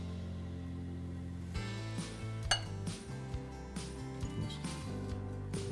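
A warm plate holding parsnip puree takes a couple of braised short ribs, with soft clinks of dishware and cutlery heard close up over a steady low background hum.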